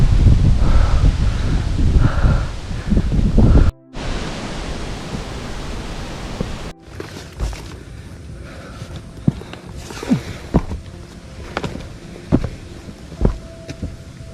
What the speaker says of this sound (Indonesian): Sini cuacanya berangin.